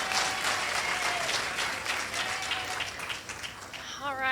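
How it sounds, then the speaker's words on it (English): Sustained audience applause fills a senior awards ceremony hall, steady dense clapping throughout, with a brief voice emerging near the end. "So give a round of applause to Ms."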